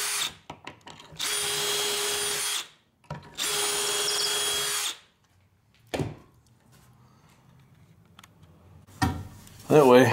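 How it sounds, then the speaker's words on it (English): A power drill bores pocket holes into a 2x4 for a garage shelf, two loud sustained whirring runs of about two seconds each, separated by a pause, followed by clicks, handling knocks and brief talk. "All right, step one is pocket holes."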